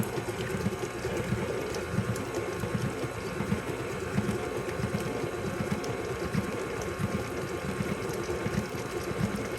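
Electric mixer beating oatmeal cookie batter made with apple butter, a steady busy whirring with a gritty churning texture, low in level and continuous with no talking.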